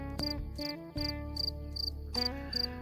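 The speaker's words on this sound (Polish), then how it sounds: "Dzisiaj w takim pięknym akompaniamencie świerszczy posłuchajcie" Crickets chirp in short, regular pulses over sustained musical tones, the chirps high-pitched and steady in the background.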